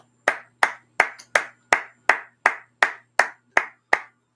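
About ten slow, evenly spaced hand claps ring out one at a time, each crisp and distinct with a short decay, and no voices in between.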